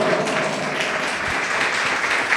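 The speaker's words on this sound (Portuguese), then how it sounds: "Louve ao Senhor com as suas palmas bem forte" A church congregation claps hands loudly and steadily, a dense wash of applause that carries through the whole stretch with no voices above it.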